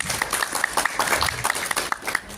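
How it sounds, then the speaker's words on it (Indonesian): An audience at a government state-defense awareness session in Bandung, West Java, claps together, a short dense patter of hands with a few voices mixed in. "Tepuk tangan untuk kita semua."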